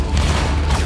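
A dense crackling musket volley rolls out in a Napoleonic Wars video game battle, a single loud burst of overlapping shots lasting about a second.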